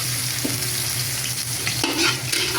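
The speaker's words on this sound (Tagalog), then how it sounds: "Kainit natin itong mantika. Then gigisa natin, lagyan natin ng bawang." Garlic sizzles and fries steadily in hot cooking oil for a Kapampangan-style igado, with a constant crackling hiss and a few soft stirring scrapes.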